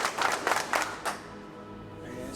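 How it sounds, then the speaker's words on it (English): Basketball team clapping for themselves in unison, four sharp group claps in steady rhythm followed by a quiet room. "Give yourself 4 claps."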